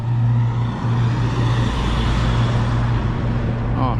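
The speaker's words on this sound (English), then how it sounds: "oh, check that out, Corvette" A Corvette passing on a roadway in Carrington, North Dakota: a loud, close, steady engine drone with a low hum, carrying over traffic noise and fading slightly at the end.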